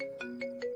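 A mobile phone ringtone plays in short repeated electronic chimes, three bursts over a steady tone, fairly faint and heard alone.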